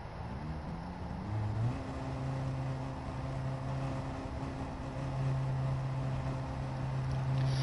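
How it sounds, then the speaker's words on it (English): Racing car engines from the Gran Turismo video game, a steady buzzing drone with a rising pitch shift early on, low and fairly faint with no voices. "there's a car that sounds like a bumblebee"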